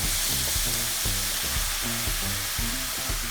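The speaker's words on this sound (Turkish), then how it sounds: "Suyunu ilave ediyorum." Hot boiling water poured into sautéed rice for Turkish iç pilav, giving a loud continuous sizzle and hiss with rhythmic bubbling pulses, close and unbroken.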